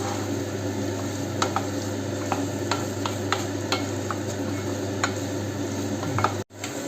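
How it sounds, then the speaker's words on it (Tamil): Elephant foot yam sautés in oil under steady stirring, a continuous low sizzle punctuated by small scattered ticks and scrapes of the spoon, ending with a brief clatter. "இந்த சேனக்கிழங்கை வந்து வதக்கிறதுக்கு ஒரு 5 நிமிஷம் நல்லா கிளறி விட்டு மூடி வச்சிடணும்."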